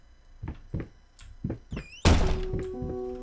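A door in the horror video game Layers of Fear bangs open with a loud, close thunk, after a run of soft footsteps and followed by a lingering eerie ringing tone.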